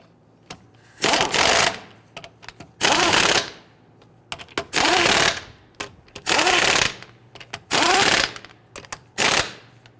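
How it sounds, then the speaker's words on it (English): Impact wrench spinning lug nuts onto a Dodge Charger rear wheel, several loud rapid buzzing bursts of about a second each separated by short pauses and clicks, close and alone. "I'm going to go ahead and install all of our lug nuts. Thread them all, and then we'll go ahead and snug them down."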